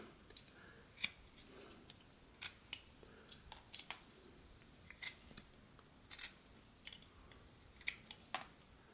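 A knife whittles a butternut wood wolf head, making a quiet, irregular series of short, crisp slicing cuts with pauses between strokes and no voices.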